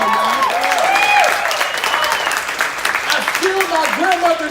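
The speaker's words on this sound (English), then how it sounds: "You can go ahead and clap for that." An audience claps and cheers throughout, steady applause under a speaker's voice that rises and falls over it.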